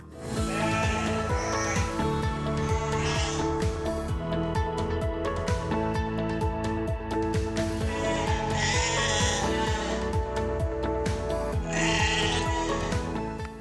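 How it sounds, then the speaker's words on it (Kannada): Bandur breed sheep bleat repeatedly at a farm, several overlapping loud, wavering calls close by, with shuffling and background noise. "ನಮ್ಮ ರಾಜ್ಯದ ಹೆಮ್ಮೆಯ ತಳಿ ಬಂಡೂರು ಕುರಿಗಳು"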